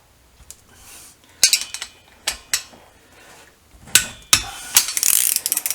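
Spanner work on the engine bolts of a BSA B50T motorcycle, several sharp close metallic ratchet clicks and clinks in irregular bursts, with quiet pauses between.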